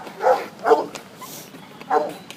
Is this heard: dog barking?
yes